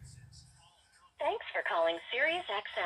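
Telephone dialing tones from a call placed through a Pioneer head unit in a Jeep ZJ, brief tones at the start followed by a recorded voice speaking loudly over the car audio.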